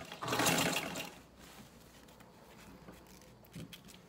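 A sewing machine stitches a pill and sanitary pad holder, running in one loud, brief burst before dropping to a quieter background with faint handling noises.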